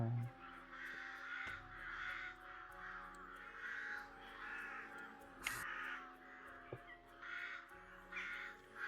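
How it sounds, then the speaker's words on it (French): Repeated crow caws used as a sound effect in a forest scene of a French tabletop role-playing session, a steady series of harsh calls at an even pace, moderately loud over a faint droning music bed. "je vais même y rajouter des petits cris de corbeau"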